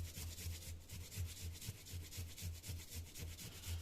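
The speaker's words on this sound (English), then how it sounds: "It's a peeler and a grater at the same time." A small combined peeler and grater rasps against food in a rapid, steady back-and-forth rhythm, a close and quiet scraping with regular strokes and no talk.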